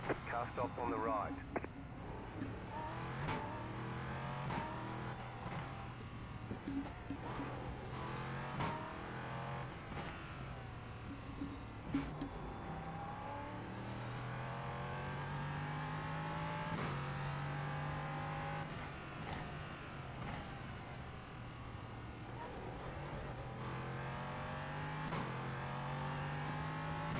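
Porsche 963 race car engine in iRacing, a steady droning motor with shifting pitch sweeps throughout, running continuously under ongoing speech.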